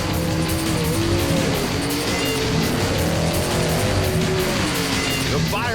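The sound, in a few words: Firebird and Mustang drag racing launch run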